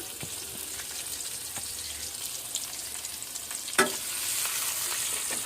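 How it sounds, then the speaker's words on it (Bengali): Chopped onion sizzles in hot oil in a pan for a home-cooked beef korma, a steady broadband frying hiss with a few sharp clicks and one louder pop; no talking. "একটু তেল দিয়ে দিলাম, এখন পেঁয়াজ কুচি"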